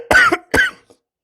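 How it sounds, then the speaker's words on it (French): Two loud, close coughs in quick succession from a woman, each a harsh burst followed by a brief rasp, ending with a faint catch in the throat. "de vous tousser comme ça dans les oreilles"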